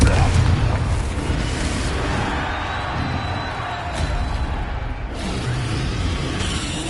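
A Confringo fire spell blasts in Hogwarts Legacy, a heavy booming burst that opens loud and rolls into a dense, roaring rumble sustained under game noise throughout, with a couple of sharper impact swells midway.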